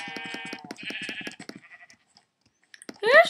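Sheep bleating in the video game Minecraft, a few short, nasal bleats close up, separated by brief quiet.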